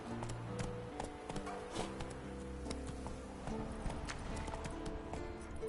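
Horse hooves clatter in a galloping rhythm in a PS4 video game, a fairly faint clip-clop over steady game music and background sounds.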